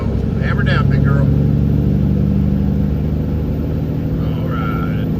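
A semi truck accelerates hard onto a highway, its engine droning loud and steady throughout with a broad low rumble, while brief road and wind noises flicker above it.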